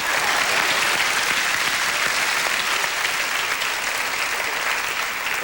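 Steady, dense applause from a comedy gala audience, even and sustained for several seconds without a break.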